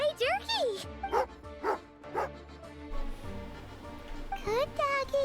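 Dog barks in the Genshin Impact video game, a run of several sharp yips and bow-wows in quick bursts, close and fairly loud over soft game music.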